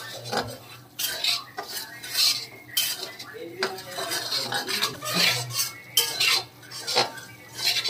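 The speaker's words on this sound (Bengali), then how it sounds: "আমি এদিকে সুজিটা পরোটা করার জন্য সুজিটাকে ভেজে নেব।" Semolina dry-roasted in a pan for parathas, with a metal spoon scraping and clinking against the pan in quick irregular strokes, close and fairly loud over a faint background hum, with no talk.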